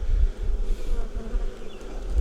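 Honey bees buzz at an open hive in a bee yard, a steady, dense hum with low rumbling underneath, close and continuous without talk.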